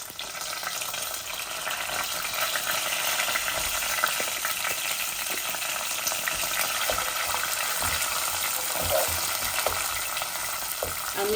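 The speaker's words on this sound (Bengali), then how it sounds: "এখন আমি পেঁয়াজ দিলাইমু।" Onions hit a pan of already fried dry spices for a chicken curry, sending up a loud, constant sizzle with stirring scrapes, close by and without talk.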